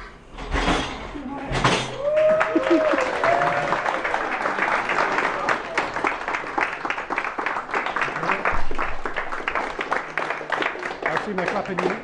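Applause from a small group welcoming guests at a college, a burst of dense clapping that carries on steadily, with voices talking over it.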